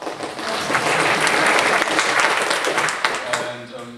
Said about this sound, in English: That's when you clap.